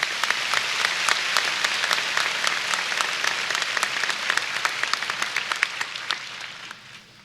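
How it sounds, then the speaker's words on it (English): A large audience at a high school graduation claps steadily in a dense, sustained round of applause that thins out and fades toward the end. "please join me in a round of applause for all these students."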